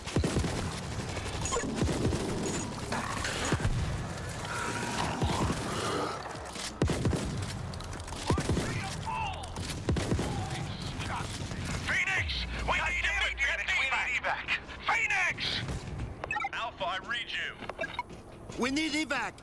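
Automatic gunfire from an auto turret in the World War Z shooter, bursts of rapid shots repeating across the scene beneath heavy in-game voices, shouting and chaotic combat effects.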